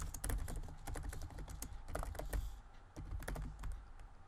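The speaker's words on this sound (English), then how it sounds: "Then for button label, I'm going to type visit my YouTube channel." Typing on a computer keyboard while entering a button label in the WordPress website editor: steady bursts of close, crisp key clicks with brief pauses, no talking.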